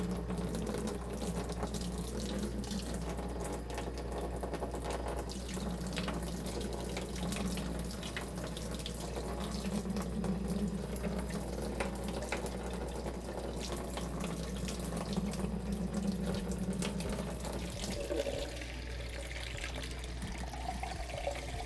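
Lukewarm water runs steadily from a kitchen tap for about twenty seconds, a continuous close hiss and splash into a sink that barely changes before easing slightly near the end.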